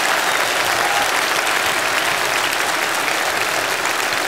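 An audience at a stand-up comedy show applauds drama school students with loud, dense, continuous clapping that holds steady throughout.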